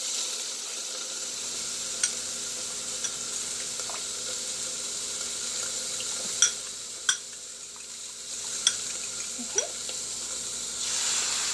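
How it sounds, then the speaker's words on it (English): Eggs poured over spinach and mushrooms in a hot skillet for a kidney-friendly omelet burrito, giving a steady broad sizzle with a few faint clicks and taps, no voices. "what we're going to be doing is just pouring the eggs on top."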